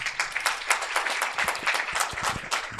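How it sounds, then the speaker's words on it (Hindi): Congregation at a Sunday church sermon clapping loudly together, a dense sustained patter of many hands filling the room for about three seconds with no speech over it. "आइए यीशु के लिए जोरदार तालियां।"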